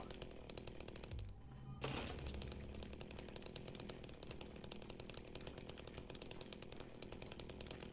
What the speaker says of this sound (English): The chainsaw.